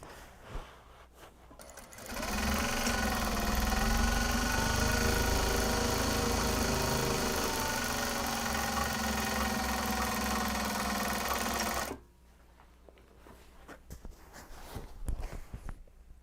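Home sewing machine running steadily for about ten seconds while stitching a Japanese fabric tote bag, a loud continuous whirring hum that starts and stops abruptly, with quiet handling noises before and after.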